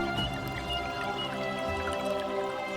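A winding river in a primeval landscape, its water gurgling and trickling steadily at close range, with a soft continuous flow and no voices.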